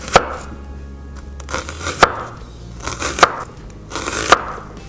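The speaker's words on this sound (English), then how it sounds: "let's get started trying to slice this onion as thin as we possibly can" A knife slices an onion thin on a cutting board, four sharp, close thuds spaced about a second apart with soft cutting rustle between them.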